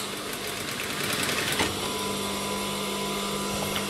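A sewing machine stitches along the side of a piece of fabric near a stiff interfacing edge, giving a steady, close, continuous mechanical whir for the full length with no speech.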